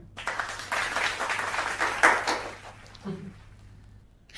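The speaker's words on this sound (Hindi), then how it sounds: "तालियां।" Audience applause at a Hindi standup comedy show, a burst of clapping from the crowd lasting a few seconds and tapering off, with faint voices near the end.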